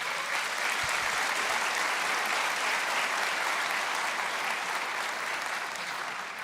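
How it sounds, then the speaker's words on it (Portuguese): Sustained applause from a church congregation at a family conference, dense steady clapping throughout without pause. "Pode aplaudir isso aí do Senhor,"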